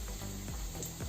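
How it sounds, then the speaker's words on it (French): Ground beef patties fry in a hot pan for homemade tacos, giving a steady, close, dense sizzle with small crackles and no talking. "les steaks hachés, vous pouvez voir, ils sont en train de cuire"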